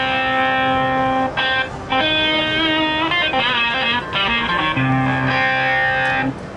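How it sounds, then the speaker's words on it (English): A jazz guitar patch run through a Guitar Rig 3 Screamer stomp pedal, giving a loud, heavily distorted tone that plays sustained chords and short changing phrases with brief gaps between them. "no longer a nice mellow jazz guitar, now it's a full-on distorted guitar"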